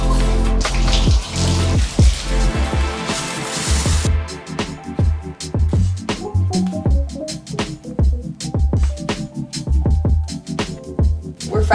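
Water from a running shower splashes and drips, a broadband hiss at first that gives way to irregular close spatters and droplet impacts, fairly loud with no voices.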